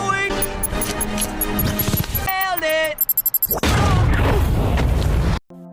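Sticky bomb exploding in a Sonic movie scene, a loud booming blast and sustained roar following music and clattering effects, cutting off abruptly at the end.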